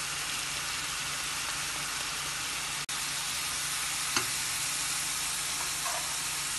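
Pasta with mixed vegetables, red chili powder and salt sizzles in a hot pan as it is stirred, a steady loud frying hiss with a sharp scrape and a few light clinks, no talking.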